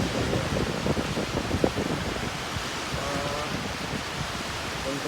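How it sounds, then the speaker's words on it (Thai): Heavy rain falls outdoors as a dense, continuous hiss and patter that stays loud and even throughout, with faint voices mixed in under it. "ฝนตกหนักนะครับ"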